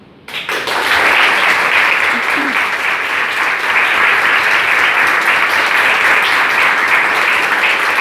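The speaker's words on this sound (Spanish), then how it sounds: "No hace falta que me aplaudan a mí" A lecture-hall audience applauds at a marketing class presentation, a dense, sustained wash of clapping that starts abruptly and holds loud and steady to the end.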